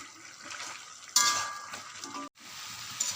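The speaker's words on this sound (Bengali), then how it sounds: "ভেজে রাখা আলুগুলো দিয়ে এবার ভালো করে কষিয়ে নেব।" Fried potatoes are stirred and sautéed into chicken curry in a pan, giving a continuous close sizzle with scraping and stirring noises and a brief louder clatter partway through.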